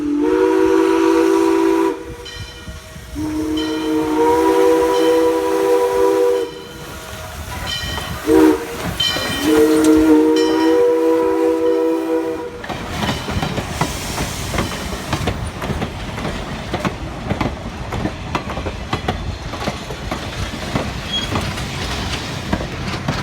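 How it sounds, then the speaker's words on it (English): A heritage railway train passes on a photo run-by, its whistle sounding in several long, tonal blasts with short gaps, then giving way to the rumbling clatter of wheels and cars rolling by close and loud. "One last photo run-by is made just at Lagan"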